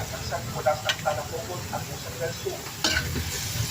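Chicken adobo in coconut milk sizzles softly in a pot while a spoon scrapes and clinks in irregular strokes, with a voice talking over it.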